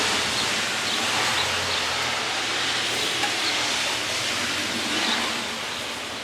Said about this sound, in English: It's got a good rain coming down right now